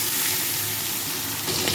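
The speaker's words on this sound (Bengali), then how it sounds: "কড়াই বসিয়ে তেল দিয়ে দিয়েছি তেলও গরম হয়ে এসছে এবার আস্তে আস্তে আমি মাছগুলো ভেজে নেব" Parshe fish fry in hot oil in a wok, a loud, steady, close sizzle with a dense hiss that holds evenly throughout with no talking.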